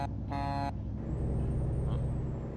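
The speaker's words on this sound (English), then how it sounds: "it sounded like a car horn" A weak, car-like truck horn in American Truck Simulator gives one short, reedy beep over the steady hum of the engine and road, followed by continuous driving rumble.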